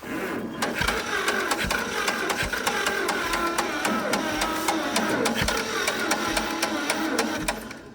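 An old abandoned tractor engine cranks over and over after sitting for years, a loud rapid mechanical chugging with a steady rhythmic beat that keeps going without catching, and no voices.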